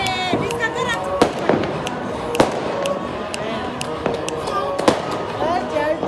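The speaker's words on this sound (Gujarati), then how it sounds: "આમ જો ફટાકડા" Firecrackers burst repeatedly during an Uttarayan kite-festival celebration, sharp cracks at irregular intervals over a busy outdoor background, with people talking and music nearby.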